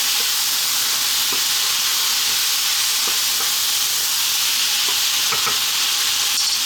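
Tomatoes, coriander and cumin powder going into a sizzling chickpea potato curry pan, a loud, constant, close hiss of frying with faint stirring taps underneath.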